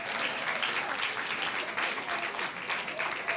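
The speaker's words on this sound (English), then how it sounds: "let's give Terry another big round of applause" An audience at a board meeting gives sustained applause, dense steady clapping from a roomful of people throughout.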